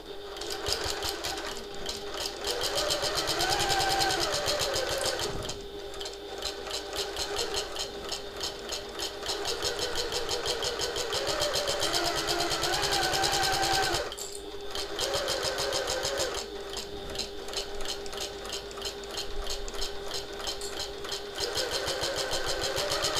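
A sewing machine stitches around a handbag pocket in quick, steady mechanical runs, backstitching at the top corners, pausing briefly twice between bursts, close and loud with no talking over it.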